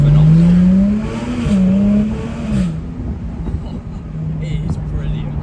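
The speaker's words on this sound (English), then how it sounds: "I think the V6 is so high-pitched, it just makes people turn heads" A 2018 Jaguar F-Type 3.0 V6 R-Dynamic P380 AWD convertible without a particulate filter runs with a loud, high-pitched exhaust drone that rises and dips in pitch, heard up close with a voice talking over it.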